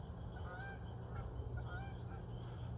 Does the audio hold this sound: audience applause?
no